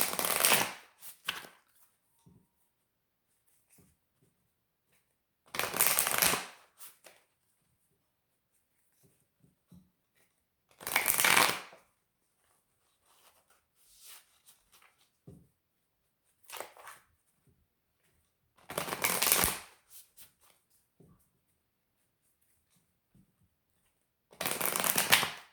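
Moonology oracle cards shuffled in short riffling bursts every few seconds, close and crisp, with near silence between the bursts.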